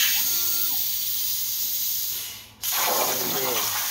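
A home-built plasma table cutting metal gives off a steady loud hiss with a faint underlying hum, briefly dropping out near the end before the broad hissing resumes.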